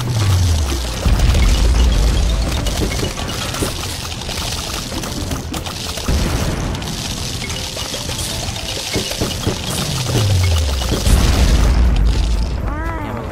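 Continuous rumbling booms and blasts in Plants vs. Zombies Fusion layered over one another, with occasional descending whooshes, loud and dense for the whole stretch.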